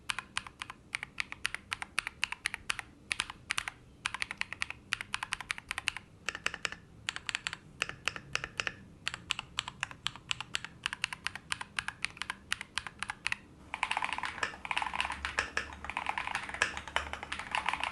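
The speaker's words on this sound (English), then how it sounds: "I want to let you hear how the keys sound up close" Rapid, continuous typing on a Kiiboom Phantom 81 mechanical keyboard with linear switches, heard up close, crisp clicky keystrokes in quick bursts with brief pauses, ending in a flurry of presses.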